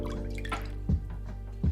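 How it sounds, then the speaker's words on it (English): Water is poured over a puck of shaving soap to cover it, giving soft dripping splashes against a low steady hum, close and fairly quiet. "I'm just putting a thin layer of water to completely cover that soap here."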